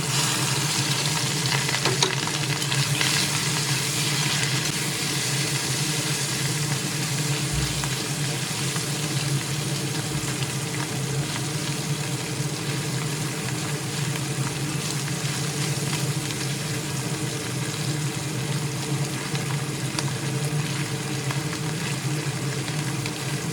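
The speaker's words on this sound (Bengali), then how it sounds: "এর মধ্যে লবণ হলুদ মাখা ট্যাংরা মাছগুলো দিয়ে ভেজে নেব" Tengra fish coated with salt and turmeric fry in hot oil in a karahi, a continuous, even sizzle and crackle with an occasional soft scrape, close by and without speech.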